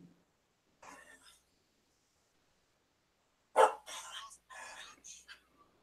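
A pet dog indoors barks and whines in a few short bursts, one loud close bark followed by smaller yelps and grumbles, with quiet gaps between.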